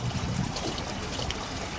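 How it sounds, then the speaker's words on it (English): Irrigation water running steadily into a farm ditch on the first morning of a three-day watering, a continuous trickling, babbling flow at close range with no voices. "it's Monday morning and the water is flowing"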